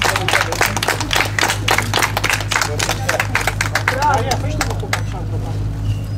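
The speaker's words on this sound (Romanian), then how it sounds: "Să aplaudăm încă o dată și să le mulțumim." A crowd claps steadily at a Romanian National Motorcycle Speed Championship prize-giving for the Junior I and 85cc riders, with a host's voice talking over it. The applause thins out toward the end.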